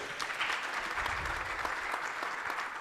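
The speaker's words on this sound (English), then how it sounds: "And a round of applause to all the wonderful questions that we have heard." A modest audience at a gender-violence dialogue event claps softly and steadily for the questions asked, a short, faint patter of hands.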